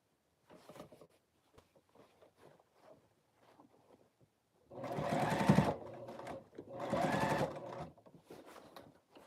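A sewing machine stitches around a sleeve armhole in two loud, close bursts of whirring, preceded by soft handling clicks and rustles of fabric.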